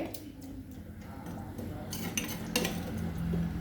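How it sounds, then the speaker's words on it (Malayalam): A spoon stirs chura fish chili curry in a pan, giving a few soft clinks and scrapes against the metal over a quiet background, with no talking. "ഇനി നന്നായിട്ട് ഒന്ന് ഇളക്കി റെഡിയാക്കി കൊടുക്കാം"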